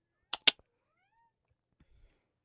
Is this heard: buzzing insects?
no